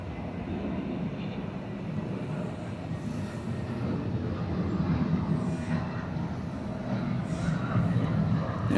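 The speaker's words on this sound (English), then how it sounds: "Who needs wide-body jets when you've got a descendant of the DC-9 taking off right in front of you?" A Delta Boeing 717 jet rumbles steadily as it takes off, a broad engine roar that swells slightly over time and carries from a moderate distance.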